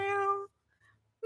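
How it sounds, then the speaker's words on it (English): A house cat gives a single strange, drawn-out meow up close, then goes quiet before a second call begins at the very end. "Oh, that was a weird meow."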